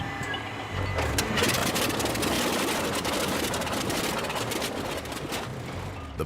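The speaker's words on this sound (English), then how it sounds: "starting the engine cold is a haphazard and messy affair" A cold WWII aircraft engine cranks and catches into a loud, rough, continuous roar with sputtering irregular firing, close by and steady throughout.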